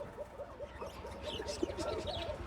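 A Bashiraj Koka pigeon coos softly up close in a repeated, rhythmic series of low throaty notes, faint against quiet background noise.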